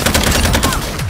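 Call of Duty gunfire, a rapid burst of loud close automatic shots that rattles through the whole short moment.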